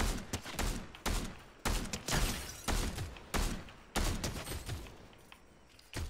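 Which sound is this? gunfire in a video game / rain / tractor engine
gunfire in a video game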